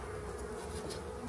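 Honeybees crowd the side frame of a hive during a late-January inspection, giving a steady, close, low buzzing hum that continues without a break through the short stretch.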